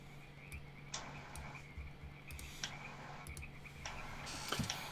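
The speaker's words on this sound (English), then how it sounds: "She's gonna get her ducks and frogs and marsh sounds in general." Frogs croak in a marsh: repeated short ticking croaks come in rhythmic bursts over a steady background chorus of insects and wetland ambience, with no talking.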